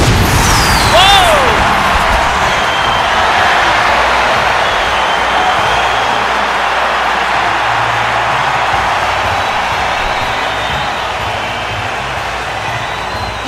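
A crowd at a wrestling match, a loud continuous roar of cheering that holds steady and fades slightly toward the end, with a whistle-like tone near the start.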